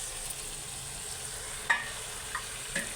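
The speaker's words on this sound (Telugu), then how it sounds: "మసాలా వేగింది ఫ్రెండ్స్" Masala for prawn biryani fries in a pan with a soft, steady sizzle, faint and continuous, broken by a few light clicks and stirring taps.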